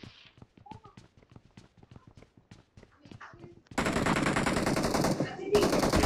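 Gunfire in the mobile battle royale game BGMI: a quick run of sharp, evenly spaced single shots, then a dense loud burst of automatic fire that pauses briefly and resumes.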